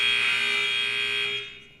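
A long, steady electronic buzzer sounds loud and continuous at a sports event, holding for well over a second before fading out at the end.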